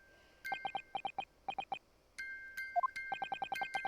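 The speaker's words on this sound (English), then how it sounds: "It's the defense's belief that the sound emanating from this music box is..." A music box in The Great Ace Attorney video game plays a faint chiming melody in quick runs of short, bell-like notes with brief pauses between phrases and a tone that rises at one point, with no voices.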